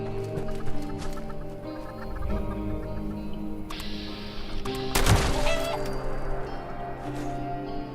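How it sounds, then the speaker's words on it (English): A chicken clucks in Fallout 76, short clucks sounding over a busy game soundscape with music and a sharp burst of gunfire midway. "Chicken."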